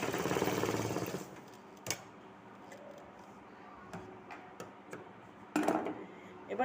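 Sewing machine stitching a salwar: a brief burst of dense, whirring stitching at the start, then quiet room tone broken by scattered light clicks and taps.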